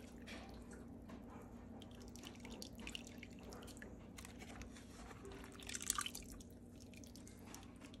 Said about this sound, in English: Let it drain good.